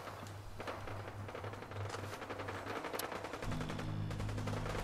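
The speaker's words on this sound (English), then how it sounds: "Okay, shooting again." Gunfire in Fallout 4 crackles as rapid repeated shots over a steady low droning hum, moderately loud and continuous for several seconds, with a deeper hum swelling near the end.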